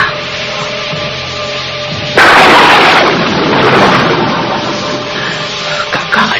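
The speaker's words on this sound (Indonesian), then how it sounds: "tiba-tiba ada suara petir" A sudden, loud crack of thunder breaks over steady background music, then rumbles and slowly fades.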